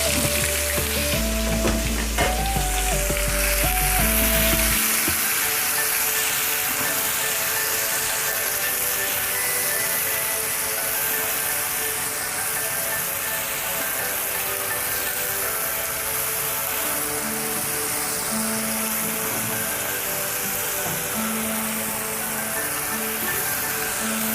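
Grated onion and tomato fry in a pan for a Gujarati stuffed drumstick curry, giving a steady, dense sizzle throughout with a brief clatter near the start and no talk.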